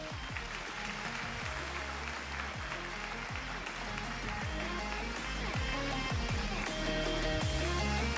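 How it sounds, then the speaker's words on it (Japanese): An audience at a Miss Universe Japan final applauds as a guest is welcomed onstage, steady clapping that builds slightly over the seconds, mixed with loud music underneath. "皆様ぜひ大きな拍手でお迎えください。"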